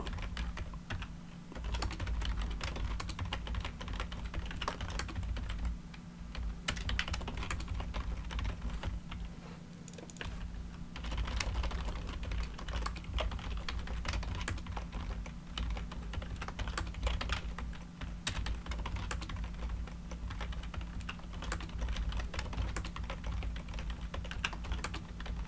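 Someone types steadily on a computer keyboard while setting up a network lab, with rapid, continuous key clicks over a constant low hum, close and fairly quiet, with no speech.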